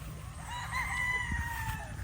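Stressed chickens clucking in a muddy yard, with a rooster crowing faintly in the background, a low rumble and some indistinct noise.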